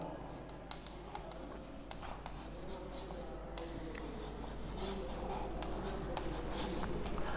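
Steady scratching and tapping of a pen or chalk writing on a board during an electronics class lecture, continuous and close, with faint room hiss and no clear talk.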